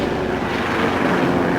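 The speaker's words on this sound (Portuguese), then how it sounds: "Tá passando aí um helicóptero." A helicopter passing overhead, a steady rumbling engine and rotor drone, fairly loud and continuous, with no speech over it.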